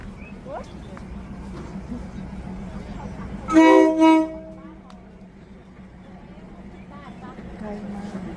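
A loud train horn blasts twice over steady rumbling and background chatter at the Maeklong railway market in Samut Songkhram, Thailand, as the train moves slowly past tourists, then the noise settles into a low murmur.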